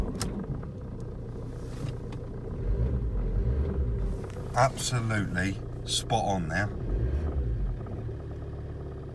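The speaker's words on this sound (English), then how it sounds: "I am going to leave the car running" A car engine idles with a low, steady rumble while someone talks briefly over it, with a few clicks and shifts midway.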